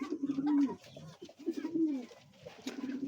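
Fancy pigeons, including a jumbo-sized breed kept for sale, coo nearby in repeated low, throaty rolling calls, with softer bird sounds in between.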